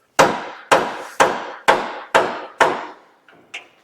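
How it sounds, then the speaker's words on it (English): Six sharp, evenly spaced hammer blows strike a Chevy Duramax 2500 front-end steering part, loud and close with ringing decay, followed by a couple of lighter metallic taps. "I'm just going to beat on it with a hammer, help it to keep moving."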